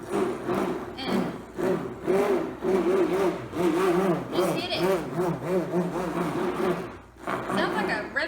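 Stick blender whirring in a foaming bath whip mixture, its motor pitch rising and falling in repeated revving bursts, close and loud, with someone talking over it.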